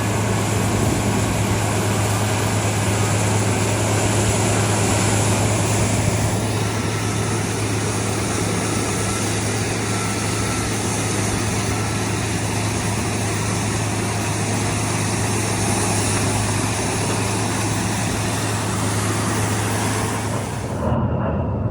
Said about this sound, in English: What are they? A-10 Warhogs? Anti-tank aircraft?